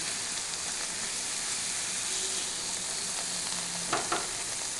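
Spring onion piaji fritters, Odia-style, deep-frying in hot oil, giving a steady, dense sizzle that runs unbroken throughout with no voices.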